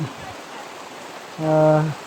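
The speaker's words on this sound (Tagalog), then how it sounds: "So ningkusog na pud ng tubig ang ulan" Steady, dense hiss of heavy rain pouring down, with a brief voice rising over it near the end.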